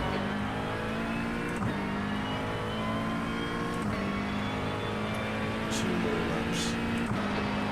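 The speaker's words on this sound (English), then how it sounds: "There's a car exiting the pits." A race car in the iRacing video game at Spa, a McLaren GT endurance race, exits the pits: a loud, steady engine drone with a rising rev and faint whooshes of passing traffic, no voices.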